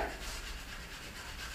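Steady abrasive rubbing of sandpaper across wood in a woodworking workshop, a continuous close scratchy hiss with no talking.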